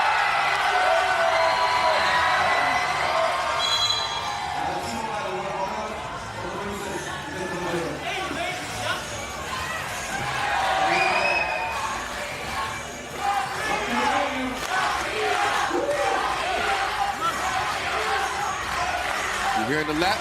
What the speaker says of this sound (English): You're hearing the Latvia chants in the crowd.